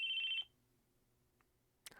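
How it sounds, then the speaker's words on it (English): A phone rings in the visual novel video game Chaos;Head Noah with a bright electronic tone that stops after half a second, then a short sharp click follows in near silence. "It was the sound of a phone ringing."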